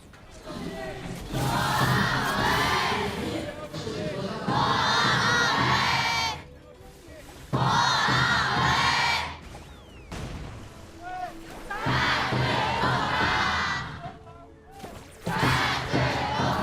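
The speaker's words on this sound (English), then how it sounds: "we want to hear the cheer of the fans" A large arena crowd of esports fans roars and chants in long surging waves at the KPL grand finals, loud and sustained with brief dips between bursts.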